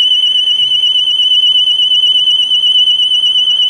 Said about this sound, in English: A warning beep sounds, and then the alarm shrieks.